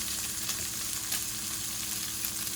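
Sausages and cabbage sizzle in a hot frying pan, a continuous crackling hiss with small pops, fairly quiet and steady with no talking.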